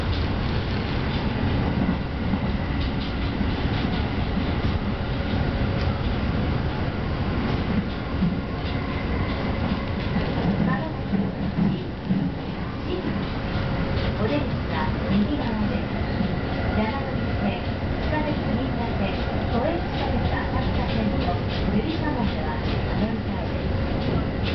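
Steady rumble and rattle of a moving train in Tokyo heard from inside the carriage during heavy rain, continuous throughout, with faint voices mixed into the noise.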